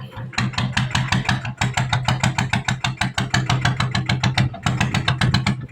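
Small single-cylinder engine of a Thai e-taen farm vehicle running loud and close, a fast regular chugging thump with a brief dip near the start, then a steady uneven beat.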